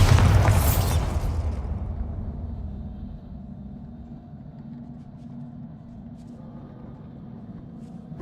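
A Bombarda spell explosion in Hogwarts Legacy bursts loudly at the start, then decays into a long low rumbling tail that fades over several seconds, with no one talking.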